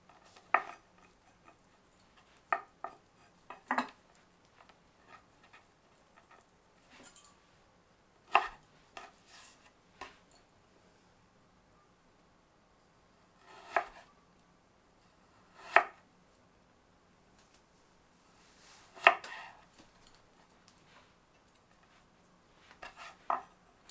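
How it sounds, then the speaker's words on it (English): A knife chops kohlrabi into pieces, making sharp, irregular taps and thuds on a cutting board, sometimes in quick clusters and sometimes spaced apart, fairly quiet and close, with no talking. "Thinly slice the kohlrabi, then cut into pieces measuring about 2 centimeters"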